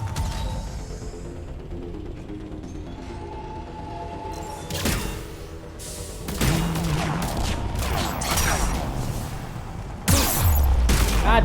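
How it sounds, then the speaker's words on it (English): Gunfire in the sci-fi shooter Mass Effect 3: sharp bursts and impacts mixed with mechanical clanks and a low boom near the end, loud and close over game ambience, with no talking. "Stop shooting me, you bastard."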